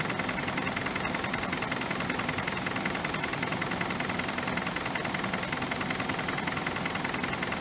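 A steady car engine idle, not yet overhauled, venting heavy oil vapour from the breather on the valve cover, runs throughout with an even, continuous rumble and faint rhythmic ticking, constant in level with no other sounds.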